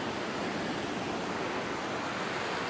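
Water rushing down a stream in a canyon, a steady, dense broadband wash that stays loud and close throughout with no talk over it.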